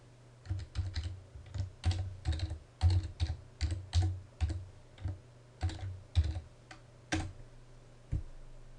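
Someone types a web address on a computer keyboard: a steady run of close, crisp key clicks in irregular bursts, ending with a firmer single keystroke and a last faint tap, with no talking.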